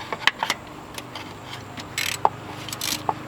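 A wrench works on the 12 mm bolts of a Volvo 240 PCV breather box, giving a few faint ratcheting clicks and light metallic taps over a quiet background hum.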